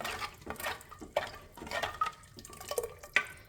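Water poured into a tuber soup in a kitchen, heard as faint, irregular splashes and drips with a few small clinks of a vessel, with no talk.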